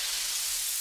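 White noise sweep effect in a UK garage track, a bright hissing wash of noise that stays steady and loud through a brief moment.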